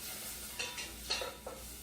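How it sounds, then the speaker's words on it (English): Onions sizzling softly in a pan with a few brief scraping strokes of a spoon, fairly quiet and close. "I can add my onions. You can hear them sizzling"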